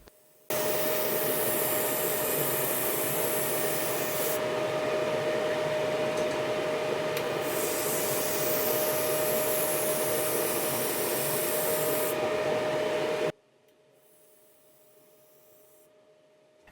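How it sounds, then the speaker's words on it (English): Laser welding continuous seams on a scale model: a steady, loud hissing drone with a faint high tone runs unbroken for about thirteen seconds, then cuts off into near silence. "To give you a good idea of how long laser welding actually takes with continuous seams"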